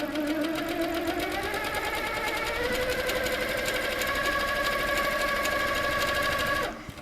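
Handi Quilter Sweet Sixteen quilting machine stitching in a steady, fast mechanical rhythm, close and continuous, with the motor pitch shifting slightly before it stops abruptly near the end.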